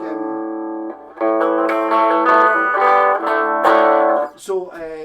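An electric guitar through a Rat distortion pedal sounds a held note, then swells into thick, crunchy sustained chords before trailing off with a few clipped strums.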